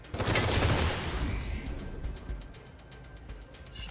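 Gunfire in the Wasteland 3 video game, a loud burst of rapid shots up front that fades into rumbling echoes and quieter crackles.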